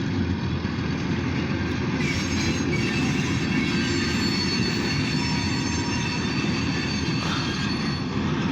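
Short freight train of grain hopper and tank cars rolling past near the freight yard in Titusville, Pennsylvania, a loud steady rumble of wheels with faint squeal and rattling throughout, close by and without talk.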